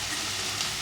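Ghee simmers gently in a pan with a steady, soft sizzling hiss, continuous and even throughout with no voices.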